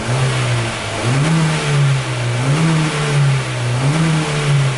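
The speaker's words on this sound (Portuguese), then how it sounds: "Agora você acelera" A 2010 Honda Fit with a loss of power and several faults, its engine revved in repeated rises and falls, droning up and settling back a few times in close, loud succession.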